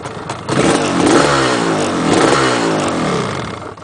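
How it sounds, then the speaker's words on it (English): A 1985 Yamaha RZ350 RD350YPVS two-stroke motorcycle engine revs close and loud, rising in two buzzy, rattling swells before settling and easing off. "a good 2-stroke should kick over really easily and start"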